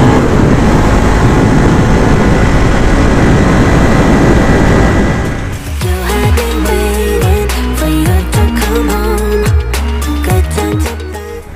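Bajaj NS200 motorcycle engine on an evening ride, a steady loud drone at first, then a revving engine with repeated rising and falling gear pulls and throttle bursts, close and continuous with no talk.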